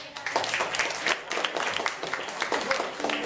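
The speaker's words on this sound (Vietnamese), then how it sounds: "Xin cho một tràng pháo tay cho Tom John của chúng ta." Applause from a small audience in a cafe, a brief burst of many hands clapping at moderate volume, fairly close and uneven, with faint crowd murmur underneath.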